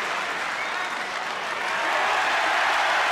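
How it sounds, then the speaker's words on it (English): Snooker crowd at the 2012 UK Masters match between Ronnie O'Sullivan and Ding Junhui breaking into sustained applause and cheering, a dense wash of clapping that swells louder toward the end. "Well, they're cheering"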